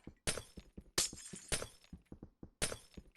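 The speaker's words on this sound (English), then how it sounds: "their special hatred is the Minecraft fucking glass breaking sound" Repeated Minecraft glass block breaking sounds, four or five sharp bright shatters in quick succession, each with a short tinkling tail, loud and alone.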